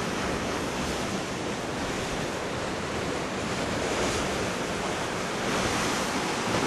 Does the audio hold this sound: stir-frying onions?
no